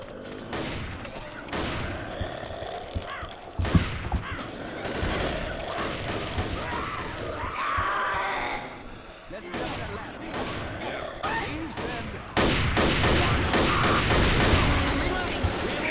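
Rapid bursts of gunfire in the video game UGU Blood Harvest, loud and close, with repeated volleys throughout and heavier firing toward the end, under someone talking.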